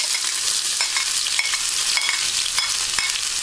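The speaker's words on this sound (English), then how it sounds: "I'm gonna fry the rest of the garlic and the onions." Garlic and onions fry in a stainless steel pan for low-carb pancit, a loud dense hiss and crackle with occasional stirring scrapes, close up and continuous, with no talking.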